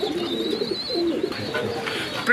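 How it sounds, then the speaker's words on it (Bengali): A red checker racing pigeon coos softly in short throaty bursts, close by, with faint chirps and background noise around it. "দর্শক আমরা এখানে দেখতেছি আরেকজন রেসার কবুতর"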